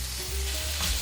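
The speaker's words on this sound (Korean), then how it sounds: "올리브 오일, 마늘, 베이컨, 양파 넣고 볶아줍니다." Olive oil, garlic, bacon and onion stir-fried in a pan, giving a steady, close, even sizzle with no voices.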